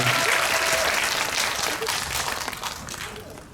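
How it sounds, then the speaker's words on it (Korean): An audience at a film talk event applauds, loud dense clapping that starts at full strength and gradually tapers off over a few seconds. "박수 부탁드립니다"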